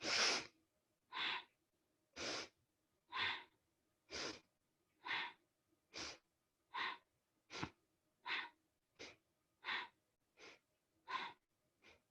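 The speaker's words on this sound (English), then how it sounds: "So it's inhale, exhale, inhale, exhale." Rhythmic yoga breathing, about thirteen strong, even breaths in and out at a steady pace, close and clear with nothing else heard.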